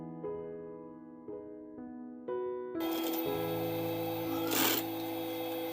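A sewing machine stitches a foam fabric bag handle. A few short mechanical starts are followed by a steady, brighter whirring run with a brief louder surge.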